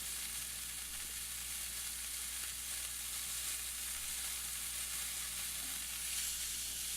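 Steak sears in a hot pan with a soft, continuous sizzle that holds steady throughout, with no talking.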